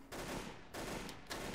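Bursts of loud weapon fire in the military shooter Delta Force Xtreme 2, three rough rattling volleys in quick succession, sounding somewhat muffled and fairly quiet overall.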